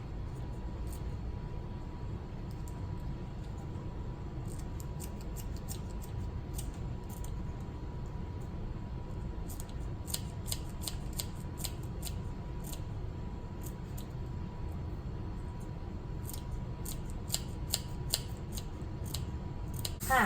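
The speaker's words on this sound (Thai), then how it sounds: "เราก็จะใช้กรรไกรหั่นซอย" Scissors snip kaffir lime leaves into fine shreds during meat preparation, a quick series of crisp close cuts coming in irregular bursts over a quiet, steady background hiss.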